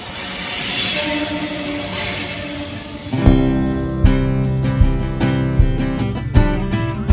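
Train running on the Netaji Express: steady rumbling roar for about three seconds, then rhythmic clunks of wheels over rail joints repeating roughly every second, loud and close.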